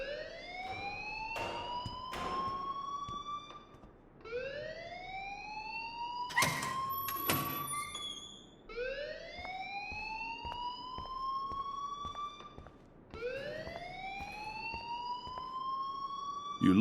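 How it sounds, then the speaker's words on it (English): Alarm in the video game Life is Strange, a repeating rising siren-like wail sounding in long sweeps, about four cycles, loud and steady with brief sharp bursts in between. "please turn off that alarm since that's your job"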